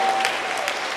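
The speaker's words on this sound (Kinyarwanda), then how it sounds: "And a round of applause to our God." Church congregation applauding during a Rwandan worship service: a steady, dense wash of clapping from a crowd, continuous and fairly loud throughout.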